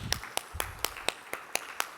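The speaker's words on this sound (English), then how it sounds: "let's give a warm round of applause to the person that just entered the" Sparse, evenly spaced hand claps at a convention, about eight or nine sharp claps in a steady rhythm, fairly faint and without talking.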